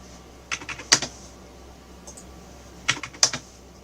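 Keys on a computer keyboard are pressed for a Ctrl+D copy shortcut: two short, close bursts of crisp clicks, each several taps, separated by a quiet pause over faint room hiss.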